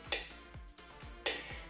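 A banana sliced by hand with a knife, with no blender at hand, for a milk-and-banana drink: a few quiet, evenly spaced knife taps against a board.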